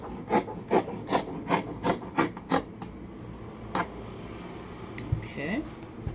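Scissors cut fabric for a tank top with about eight quick, rhythmic rasping snips close by, then slow to a few scattered cuts and soft handling noises.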